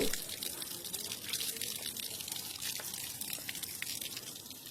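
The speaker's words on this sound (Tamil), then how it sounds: "இந்த மாதிரி பாறை இடுக்கு வழியாக தான் இந்த தண்ணி வந்து இந்த தீர்த்தத்துக்கே வருது" Thin water trickles through a rock crevice into a sacred temple pool at Tiruvannamalai, a faint steady splashing and dripping trickle with soft crackling, heard alone and distant.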